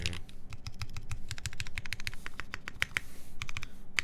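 Rapid clacky keystrokes on a Keycult No. 1/60 Rev. 1 mechanical keyboard, a dense close-up burst of sharp individual clicks with short pauses, no voices.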